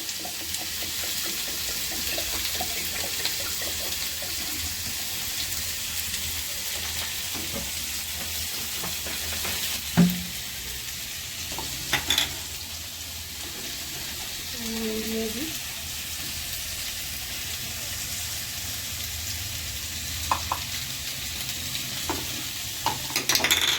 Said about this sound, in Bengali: একদিকে তরকারি বসিয়ে দিয়েছি একদিকে লুচিটাও ভেজে নিই তাড়াতাড়ি হয়ে যাবে